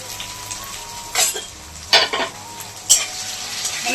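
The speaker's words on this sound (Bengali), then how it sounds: "লঙ্কা কুচি দিয়ে দিচ্ছি" Chopped green chillies fry in a hot pan, a steady sizzle broken by three scraping strokes of a spoon stirring them, close and clear with no talk.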